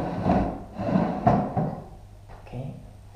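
Desk drawers in a study corner of a two-bedroom apartment being pulled open and pushed shut, several close wooden knocks and sliding thuds spread across a few seconds, with no talking.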